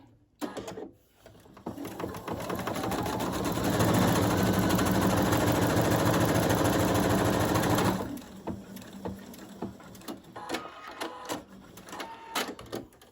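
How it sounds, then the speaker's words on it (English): A sewing machine runs a zigzag stitch on a fabric face mask, a steady close mechanical whir that starts after a short pause, holds for several seconds, then stops, followed by lighter handling clicks. "I fold it over. I do a zigzag stitch."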